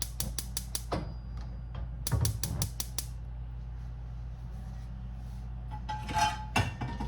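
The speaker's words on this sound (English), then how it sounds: "And that's going to be a medium frying pan." A medium frying pan is handled in a kitchen with sharp metallic clanks and rattles in quick bursts, separated by quieter stretches over a steady background hum.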